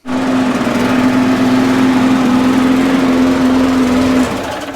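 A Mountfield lawnmower engine runs steadily while warming up, a loud constant buzzing drone with a strong steady hum that eases off slightly at the end, with no talk.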